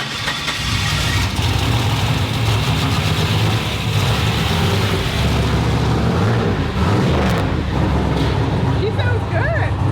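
Car engine idling steadily through a small baby muffler exhaust, a continuous low rumble throughout with voices talking over it.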